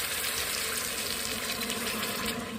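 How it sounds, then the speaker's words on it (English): Water pours steadily into a pressure cooker, a continuous close splashing gush of about one cup that runs without a break. "I'm going to add just 1 cup of water."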